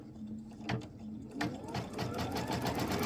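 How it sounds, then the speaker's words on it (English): A computerized sewing machine stitching a quilt star point onto stabilizer, a steady close mechanical whir with rhythmic needle thumps and a brief pause, running continuously. "now it's going to stitch that star point right into place"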